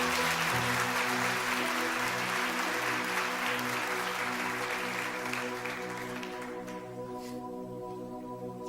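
A church congregation at a Portuguese-language service claps loudly over sustained organ-like chords, the applause fading out gradually while the music continues underneath.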